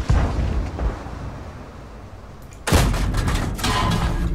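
A heavy tank cannon round slams into the player's T-34 in a tank battle game, a loud sudden impact boom that follows a stretch of rumbling engine noise and leaves ringing noise behind.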